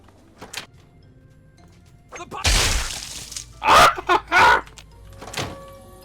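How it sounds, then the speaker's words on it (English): In the video game Fallout 3, a loud explosion erupts as a broad crashing blast, followed by several sharp, heavy bursts and smaller clatters in quick succession. "What an explosion!"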